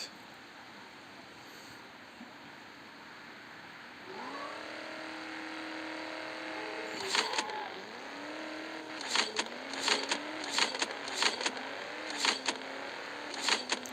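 Car engine from the Top Speed mobile racing game starts up and revs hard, its pitch climbing in repeated surges with sharp, loud shift bursts in quick succession toward the end, with no talking.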